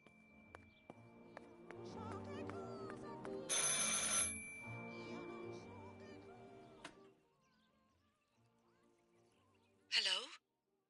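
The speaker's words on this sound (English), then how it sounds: "I should pick up the phone but remain silent." A telephone rings in the video game Martha Is Dead, a few sharp bell bursts over a busy layered background of music and ambience, then a lull before a final short loud burst.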